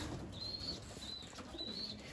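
Pigeons in a loft coo softly and flutter their wings in short bursts, faint and close, with a few brief high chirps among the low murmuring.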